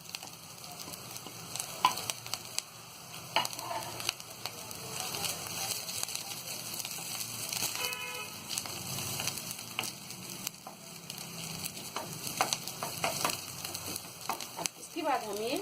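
Chopped ginger and green chili sizzle in hot oil for momo filling, a steady close frying crackle with scattered pops and light stirring.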